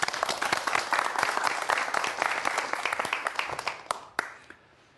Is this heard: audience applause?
yes